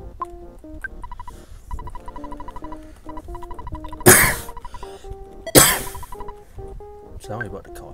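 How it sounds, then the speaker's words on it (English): A couple of loud, explosive coughs ring out during a video game playthrough of the pony-themed ROM hack EquestriaBound, rising over chiptune-style game music that keeps playing throughout. "Sorry about the coughing fit."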